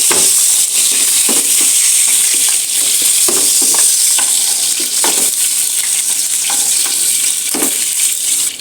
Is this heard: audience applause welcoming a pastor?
no